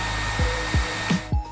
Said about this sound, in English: use the hairdryer on the top until the material softens up